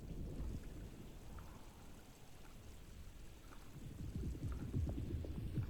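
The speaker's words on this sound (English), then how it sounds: "Looks like a storm's coming." Rainstorm in the video game Alone in the Dark, a steady wash of rain with low rumbling thunder building toward the end, continuous and fairly loud with no talking.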